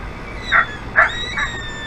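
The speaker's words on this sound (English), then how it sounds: "Oh, I hear a coyote yelling." A coyote yelps back at a predator call in short, high, whining bursts, three quick cries in two seconds, fairly close and clear over quiet background.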